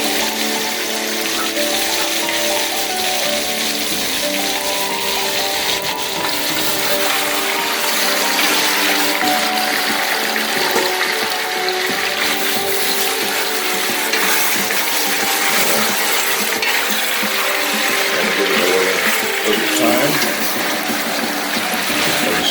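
Water is added to a pot of chicken feet stew, giving a loud, continuous rushing and sizzling hiss that holds steady throughout without any talking.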